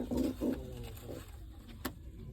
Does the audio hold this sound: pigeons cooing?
yes